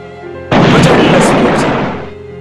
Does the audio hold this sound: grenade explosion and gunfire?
yes